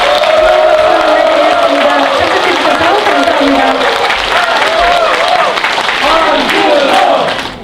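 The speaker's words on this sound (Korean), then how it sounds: "우리 한준호 최고위원님 가실 수 있도록 뜨거운 박수 부탁드립니다." Party members at a Democratic Party rally in Yeongdeungpo clap and cheer loudly, a full crowd roar with whoops over music, sustained throughout before dropping at the close.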